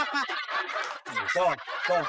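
A live chicken clucking and squawking repeatedly in agitated bursts, close and fairly loud, with a brief pause midway.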